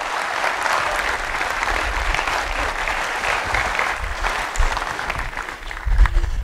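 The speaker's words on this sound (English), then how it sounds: "Give him a round of applause." An audience gives a round of applause, dense sustained clapping across the room, fairly loud and steady, swelling slightly near the end, with no talk over it.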